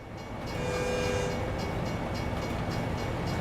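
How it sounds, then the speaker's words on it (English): A train rolls past in the American Truck Simulator video game, set in Arkansas, with a steady, loud rumble of the rail cars that holds for a few seconds and carries no speech. "There's the train."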